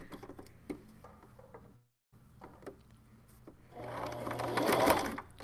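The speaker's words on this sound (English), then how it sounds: "I'm going to put my needle down, and then I'm going to start the sewing." Sewing machine stitching a T-shirt face mask, a quiet mechanical ticking that stops briefly, then resumes and speeds into a denser, louder whirring run toward the end.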